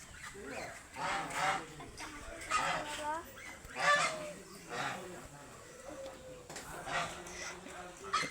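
Geese honk repeatedly in short bursts, fairly close at a bird park, with some background chatter from people nearby.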